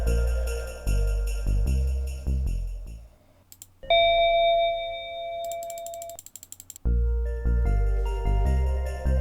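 Windows XP shutdown chime, a short descending run of bright synth tones that follows chunky mechanical clicks and leads back into a repeating rhythmic clatter, with no voices.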